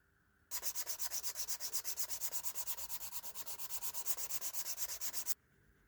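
Sandpaper rubbed against the leather edge of a handmade blue Oxford shoe in quick, even strokes, dozens of rhythmic close scrapes for about five seconds with quiet before and after.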